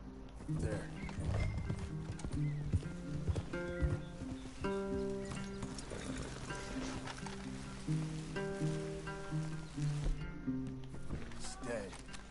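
Horse hooves clip-clop steadily at a walk in Red Dead Redemption 2, with a faint whinny, under musical background and occasional talk.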